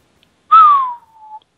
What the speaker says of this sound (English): Don't whistle down the mic, please.